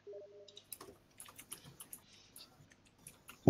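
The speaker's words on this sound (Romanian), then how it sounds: "De la unde se aude tastatura aia?" Computer keyboard typing picked up by a streamer's microphone during a live stream: quiet, irregular clicking keystrokes scattered throughout, fairly close but low in level, with a sharper knock at the end.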